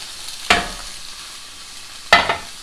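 Beet green stems sautéing in lemon olive oil, a soft steady sizzle punctuated by two sharp stirring scrapes, one near the start and one near the end, close up.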